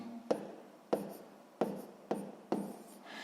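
A pen writes out a sixth-grade math exercise by hand on paper: five quick scratchy strokes in an uneven rhythm, close up and fairly quiet, with no talking.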